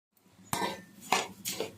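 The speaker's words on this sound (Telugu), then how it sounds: "తర్వాత కొంచెం వేగిన తర్వాత కొంచెం ఆయిల్లో పెట్టి వేపేసుకుందారు" Spoon stirring flattened rice (poha) frying in oil in a pan, three scraping, clattering strokes against the metal with a soft sizzle between them, close and moderately loud, no speech.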